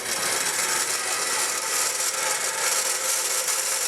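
Steady sawing while cutting material to build a Chinese dragon, slicing about an inch into each of nine pieces; a loud, continuous rasping hiss runs throughout without pauses or talk.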